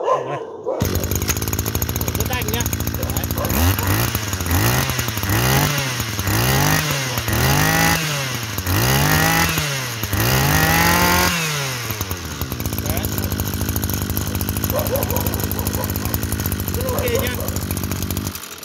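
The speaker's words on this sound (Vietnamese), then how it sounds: "đây bác nghe cái quan sát máy của nó chạy thì rất là bốc này" A Japanese-made grass cutter engine runs loud and steady close by, its pitch rising and falling in repeated surges as the throttle is blipped, then settling to an even drone.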